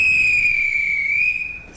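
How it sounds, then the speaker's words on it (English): A referee's whistle in a boxing match blows one long, loud, piercing blast that holds steady for over a second before cutting off. "Whoa, the whistle!"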